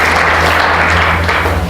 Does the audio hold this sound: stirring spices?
no